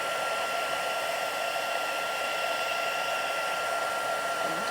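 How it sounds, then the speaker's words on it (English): A heat gun blows a steady, loud, even hiss of air with a constant whine, running without pause during card bleaching work. "that noise of the heat gun"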